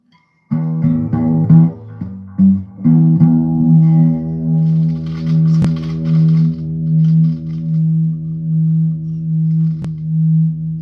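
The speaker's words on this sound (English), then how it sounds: "Turn on distortion." Electric guitar played through an amp with the distortion effect switched on, giving a loud, sustained, gritty tone with chugging notes at first and then ringing held chords, with no talking.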